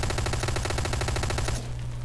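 Rapid automatic enemy gunfire from the Hotline Miami video game, a dense loud stream of regular shots that suddenly cuts off, leaving a low steady hum.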